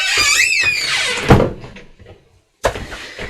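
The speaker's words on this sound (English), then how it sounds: "I'm going to just reach and shut my door" A room door is pulled shut with a sharp, close thud about a second in, followed by a short quiet pause, then another firm knock-like impact near the end; a faint chattering sound runs through the opening.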